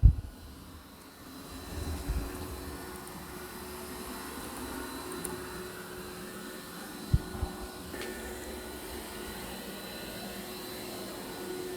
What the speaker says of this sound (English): now it's going back and forth in a crisscross pattern now.